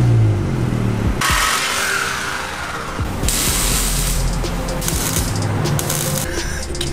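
A Honda Civic Si engine revs hard, rising and falling loudly over a broad rushing exhaust roar with wind-like noise, up close and continuous throughout with no voices.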